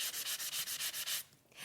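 Quick back-and-forth sanding strokes from a sanding tool at a crafting table, about ten rapid rhythmic rubs, close but quiet, stopping abruptly, with no talk.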